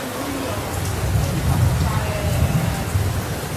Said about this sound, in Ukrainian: і дощ і грозу ми в Італії теж достали